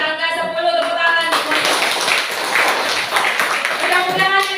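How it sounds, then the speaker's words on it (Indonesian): Children in a classroom burst into a short round of quick hand clapping, a dense patter that rises abruptly between bits of a teacher's speech. "di angka 10 tepuk tangan"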